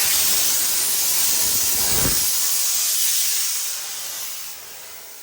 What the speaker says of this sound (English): That was strictly the hot water and the steam, and that got all the dirt out.